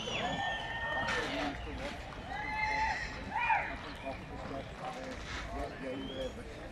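Horses at the Royal Welsh Show during a dressage display, with a whinny and hoof clip-clop rising over a busy showground crowd and steady background chatter.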